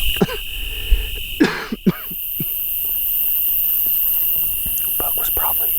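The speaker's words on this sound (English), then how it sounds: "I've been holding in a cough for 20 minutes." Several short, sharp coughs and throat-clearing from a hunter out on a public-land deer hunt, close and loud in the first two seconds, then a quiet outdoor hush.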